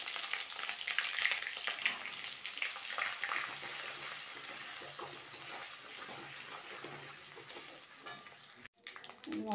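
Ginger sizzles in hot oil tempered with cumin and peppercorns for a paneer cauliflower curry, a soft continuous crackling hiss that fades slightly, with a brief cut near the end.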